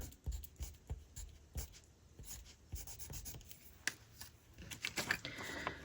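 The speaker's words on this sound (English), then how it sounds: "I'm going to write top and bottom here" Pencil writing on paper: soft, close scratching strokes in irregular short bursts, faint and steady with a few light taps.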